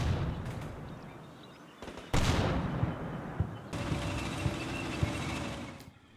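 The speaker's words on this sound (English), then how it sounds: "Our gun line of Dragons and the tow launcher and are now taken under fire." Gunfire aimed at a Dragon and TOW launcher gun line in the Combat Mission Cold War video game, bursts of shots and fusillade crackle with heavy booming impacts, loud and continuous over a rumbling background, no voices.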